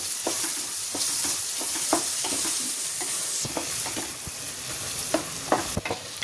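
Onions with ginger and garlic fry in a pan for kanthari chicken, a steady close sizzle broken by repeated scraping strokes of a stirring spoon.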